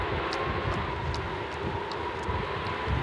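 Strong mountain wind in the Dolomites roars as a steady, broad rushing noise, loud and unbroken, with faint higher whistles briefly cutting through.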